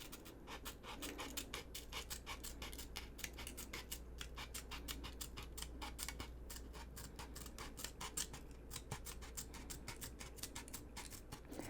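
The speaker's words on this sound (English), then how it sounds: "See how it's hard to get a straight cut because of the angle of my scissors." Small scissors snip paper for a miniature library book nook, a fast, even run of crisp close-up cuts in a quiet room with no talking.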